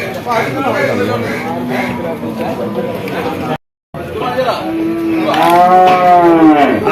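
A buffalo lows with deep, drawn-out calls, the last one loud and close, while people talk nearby in a busy cattle market.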